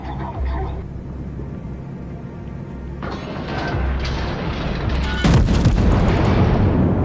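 Warship guns firing in the naval video game World of Warships: heavy booming salvos over a constant rumbling engine and water drone, growing louder toward the end with a strong blast near the finish.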